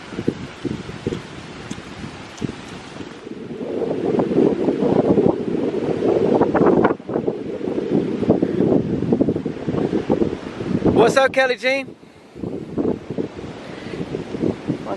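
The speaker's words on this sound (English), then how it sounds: "The waves are strong, man. The waves are knocking me in the water." Strong ocean surf and gusty wind buffet the microphone at a Puerto Rico beach, a loud, continuous rushing roar with a brief voice calling out partway through.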